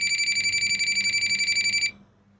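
Clamp meter beeping when placed on a live phase wire, a rapid string of pulsed high-pitched electronic beeps, loud and close, stopping abruptly after about two seconds.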